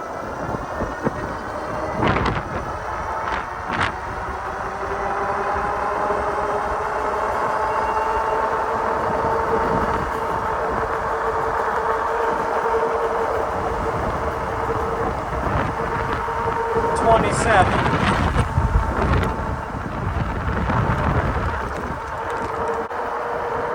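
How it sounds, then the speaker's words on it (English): A Polarna M4 folding e-bike runs at full throttle with a steady wind-rushed motor whine and road roar, rising in intensity with some rattling bursts near the end. "Gonna turn this thing all the way up to number 5. And we're gonna see how fast this thing goes. Full throttle."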